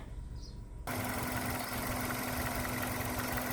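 A Hyundai Avante engine idling steadily with a low rumbling hum and a constant tone, growing louder and fuller after a brief quieter start.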